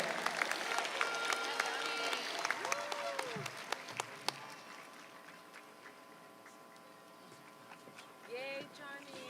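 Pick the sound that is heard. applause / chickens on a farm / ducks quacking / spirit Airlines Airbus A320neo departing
applause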